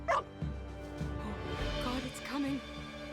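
A dog in the video game Two Falls barks several times and whimpers, close and fairly loud, with yips and soft whines over a low background.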